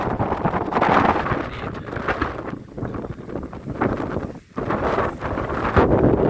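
Strong gusts of wind on a hilltop buffet the microphone, roaring and dropping in uneven surges with a brief lull midway, loud and close.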